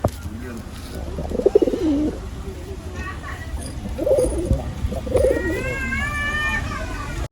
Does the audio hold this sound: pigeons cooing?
yes